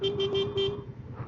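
A Yamaha Fazer 250 motorcycle horn gives several close, loud honks in quick succession and then cuts off, leaving only faint background noise.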